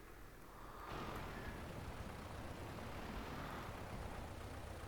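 A tractor engine in the video game Farming Simulator 22 starts and settles into a steady low droning idle that runs without a break, faint and muffled, with no talk.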